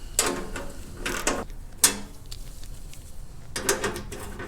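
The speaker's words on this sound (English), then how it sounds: "what you need is a 7/16 socket wrench, and you would just remove these bolts" A 7/16 socket wrench turns out bolts on a snow blower panel, giving a few short, close metallic ratcheting bursts and clanks separated by brief pauses, with no talking.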